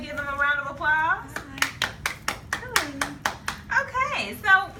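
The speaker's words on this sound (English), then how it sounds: "Can we give them a round of applause?" A small group claps for two teachers at a kindergarten technology seminar, a burst of roughly a dozen sharp, rhythmic hand claps in a room, with children's voices chattering before and after.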